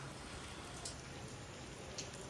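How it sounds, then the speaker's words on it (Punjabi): Steady rain falls outdoors on a farm, a faint, even hiss of drops with no voices. "ਲੋ ਜੀ ਮੀਂਹ ਨਹੀਂ ਅੱਜ ਹਟਦਾ ਲੱਗਦਾ"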